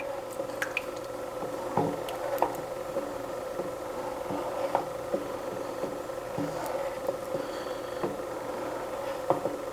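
Vinegar is poured slowly into a pot of heated milk while making homemade mozzarella, giving faint scattered drips and soft squishy liquid sounds over a steady low hum.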